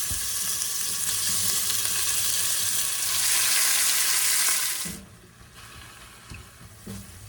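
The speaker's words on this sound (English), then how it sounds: "we're gonna start browning our meat" Lean ground beef browns in a pot with olive oil, giving a loud, close, steady sizzle for several seconds that suddenly drops to a quiet simmer with a few soft stirring knocks.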